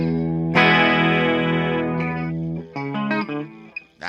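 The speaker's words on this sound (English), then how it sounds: "We also have the Future Chorus, which, again, pretty basic for a chorus pedal, has level, depth, and rate on there" Electric guitar played through a Joyo Future Chorus pedal: a long sustained, shimmering chord rings out loudly, then fades into a few short plucked notes and a brief phrase, with no talking.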